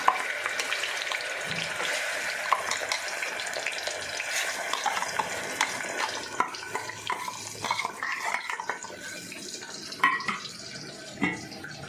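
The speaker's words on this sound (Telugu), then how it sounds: "కరివేపాకు కూడా వేసుకుని ఈ మసాలా అయితే పచ్చివాసన పోయేదాకా ఆయిల్ అయితే వేగాలి" Masala and curry leaves fry in hot oil in a home kitchen, a steady sizzle with clinks and scraping of stirring running throughout, fairly close and moderately loud, with no talk.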